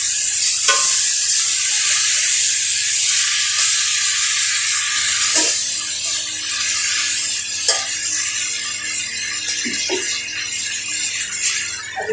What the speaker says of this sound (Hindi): आलू और टमाटर को पकाएंगे अच्छे से।